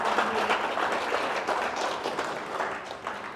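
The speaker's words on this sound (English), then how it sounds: "So big round of applause" A lecture audience applauds in a dense, continuous burst of clapping that stays loud and full for a few seconds before thinning slightly at the close.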